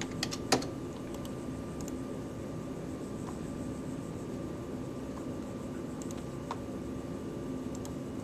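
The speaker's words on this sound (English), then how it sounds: "I got to hit Control E on my keyboard" Someone presses a keyboard shortcut on a computer keyboard, giving a few faint, sparse key clicks scattered over a steady low background hum.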